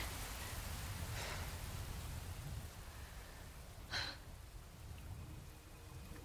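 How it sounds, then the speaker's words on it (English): Steady rain in the video game Resident Evil 4 Remake, a faint continuous hiss of falling drops with a couple of soft brief breaths over it. "And now it's raining."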